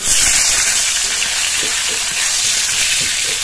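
Chopped tomato, black cumin and slit green chilli frying in hot oil, a dense continuous sizzle with faint stirring scrapes, close and loud, no voices.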